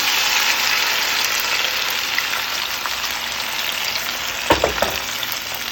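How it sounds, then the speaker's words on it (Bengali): Onion and garlic dropped into hot oil for a pabda fish curry give a dense, continuous sizzle close by. A few quick clatters of utensils come near the end, and nobody speaks. "ডলা দিয়ে নেওয়া সব পেঁয়াজ রসুনগুলো দিয়ে দিচ্ছি গরম করা তেলে"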